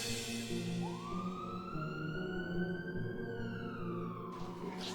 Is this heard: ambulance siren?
yes